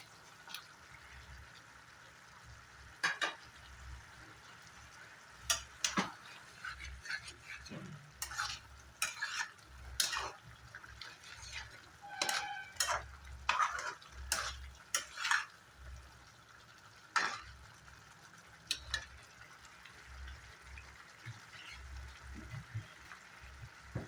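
Paneer fries and is stirred in a spice masala, a low sizzle under repeated scrapes and clinks of a spoon against the pan, fairly quiet and close.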